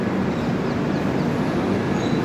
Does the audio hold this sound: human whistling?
no